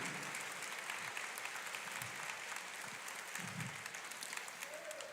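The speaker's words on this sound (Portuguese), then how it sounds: "Aplauda mais, glorifique" Congregation clapping steadily at a church conference service, a sustained, dense wash of applause with a few brief voices or cheers rising through it.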